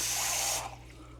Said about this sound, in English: I think it needs more water, so we're going to add a little bit more water.